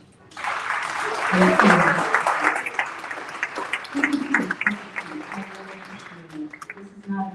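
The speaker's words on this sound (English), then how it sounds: "I appreciate the applause." Audience applause welcoming a speaker on stage, many hands clapping that swells then gradually fades, with a person talking over the tail end.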